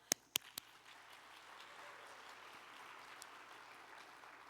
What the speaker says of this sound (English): let's applaud Danielle